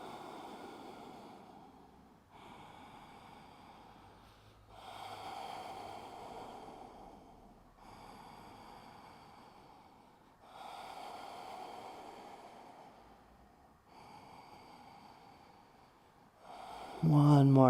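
Slow, deep yoga breaths during a class in Manchester, long inhales and exhales each lasting a couple of seconds, close and breathy, repeating in an even rhythm.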